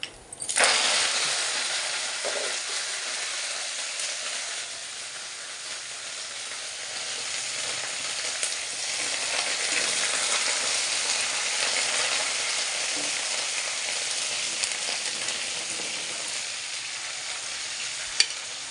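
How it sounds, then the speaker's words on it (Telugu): Curry leaves fry in hot oil for a tempering, a loud, bright, steady hiss that erupts suddenly and then crackles continuously at close range with no talking. "ఇవి అయితే ఫ్రై అయిపోయినాయి కరేపాకు కూడా వేసేస్తాం"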